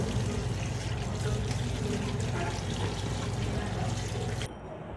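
Water poured steadily into a container to soak small fish for cooking, a continuous close splashing rush that holds steady and then stops abruptly near the end.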